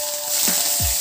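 Mustard seeds, cumin and curry leaves hitting hot oil in a kadhai, a bright steady sizzle with a couple of brief sputtering pops, close and loud.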